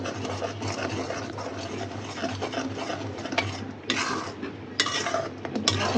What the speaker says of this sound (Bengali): সুন্দর করে নাড়াচাড়া করে দিচ্ছি